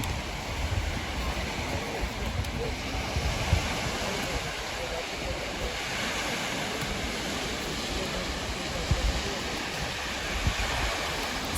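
Baltic Sea waves on an overcast day make a constant rushing roar, with a low rumble and wind-like hiss and no distinct individual breakers.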